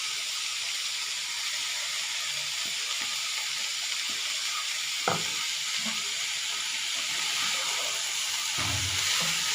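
Peanut and garlic powder being stirred into beans frying in a pan, a steady close sizzle with occasional scraping knocks of the spoon, no voices.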